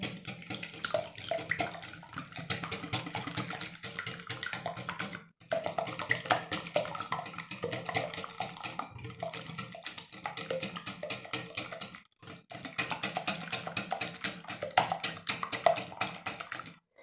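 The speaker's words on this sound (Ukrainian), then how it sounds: "Все гарно вінчиком змішуємо." A whisk beats crepe batter in a bowl with quick, steady scraping strokes that run on and on, pausing briefly twice.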